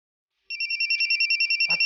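A telephone rings with an incoming call, a close electronic trill of rapid double beeps repeating steadily after a moment of silence, with a short burst of other noise near the end.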